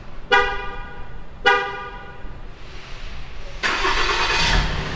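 Two sharp horn chirps sound a second apart, then a 2017 Ram 3500 Laramie 4x4 diesel truck engine, started by remote, cranks and rumbles to life, idling loudly and steadily.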